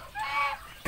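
A goose gives a single short honking call close by, followed by a sharp knock at the very end.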